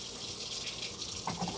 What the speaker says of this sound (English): So you rinse this out.